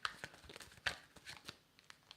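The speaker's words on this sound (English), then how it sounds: "One more shuffle." A deck of tarot cards shuffled by hand at close range, giving quiet, papery crinkles and soft slaps in uneven bursts, with no voices over them.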